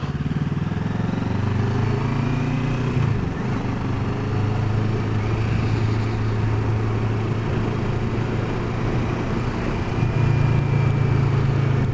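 A motorcycle engine hums steadily while the bike is ridden, with a constant drone, wind rush, and small shifts in pitch as the revs change, loud and close throughout.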